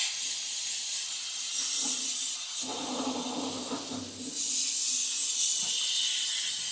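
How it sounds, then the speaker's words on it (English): A hose spray hisses steadily into the bottom of a pan to wash it out, a close continuous rush that briefly drops to a splashier, lower tone before the full hiss returns. "spray in the bottom, like in that pan to wash it out"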